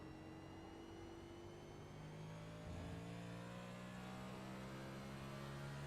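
A NewGen Cup Series race car at Watkins Glen International on light throttle, its engine a steady mid-pitched drone with faint whirring harmonics, holding a constant level throughout with no voices.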